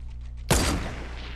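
A single sharp sniper rifle shot in Fortnite cracks loudly out of quieter game ambience, then trails off in a short rumbling echo.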